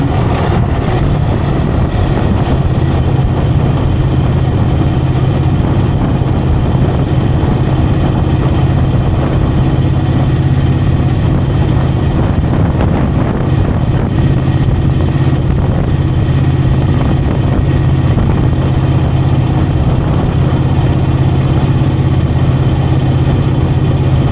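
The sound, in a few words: 2001 Moto Guzzi EV80 motorcycle riding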